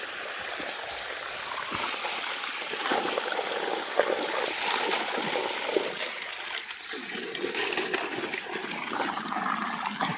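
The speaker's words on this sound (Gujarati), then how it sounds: "જો પાછી મોટર શરૂ કરી દીધી છે હા પાણી હેઠું જાય" Water from an electric farm pump motor gushes and splashes steadily outdoors, a continuous close rushing flow with no talking.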